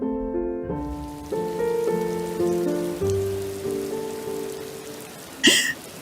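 Steady rain patters beneath a slow, gentle melody of sustained notes, with a brief sharp sound near the end.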